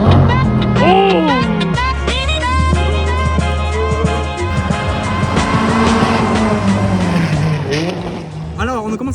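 A loud Ferrari or Lamborghini engine roars and revs up and down through gear changes on a race track, sweeping pitch as the car accelerates, with occasional voices underneath.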